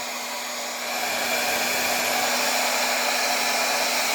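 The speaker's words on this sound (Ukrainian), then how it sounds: "Один лише тільки фен на першій швидкості він тяне." A hair dryer runs on its first speed, powered by a cheap pure sine wave inverter. The motor whirs and blows in a loud, steady hiss that swells slightly after the first second and holds, with no voices.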